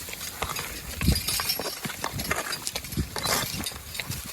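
A team of draft horses plods along while pulling a plow, their hooves thudding in a steady uneven clip-clop over a busy outdoor background of harness clinks and field noise.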